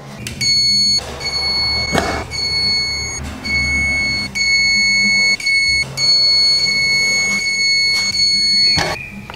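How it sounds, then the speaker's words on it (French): Sharp electronic beeps sound repeatedly in short bursts with brief gaps, an electrical earth resistance tester chirping at each check, close and loud over faint clicks. "je vais contrôler mes résistances de terre, ça va biper à chaque fois"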